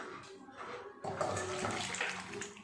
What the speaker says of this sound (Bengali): কড়াইটা ধুয়ে আবার চাপিয়ে দেব।